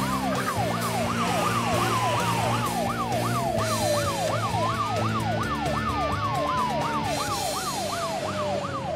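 An ambulance siren wails loudly and close, its rapid up-and-down yelp cycling continuously over a slower sweeping tone.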